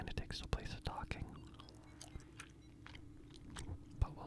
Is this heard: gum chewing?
yes